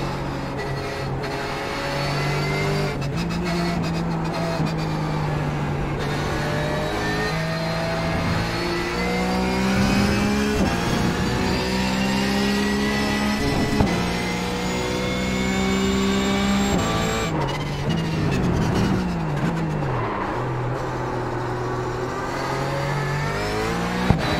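A Porsche 911 GT3 race car laps COTA in the iRacing sim, its engine droning steadily and loud, climbing in pitch through each gear and dropping at every shift.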